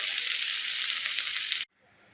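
Okra frying in oil in a pan gives a steady, loud, close sizzle that cuts off abruptly, leaving a faint low hiss with no talking.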